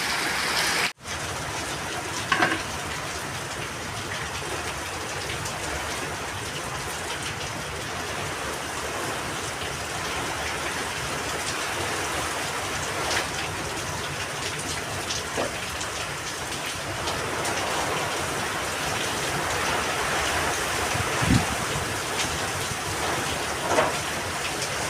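Heavy rain pours down steadily and close by, a dense, unbroken hiss of drops on surfaces that holds at an even volume throughout, with a few faint knocks now and then.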